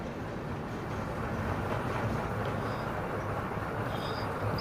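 Steady loud rumble and rattle of a train running on the Araku line, a continuous close rolling roar with no breaks and no talking.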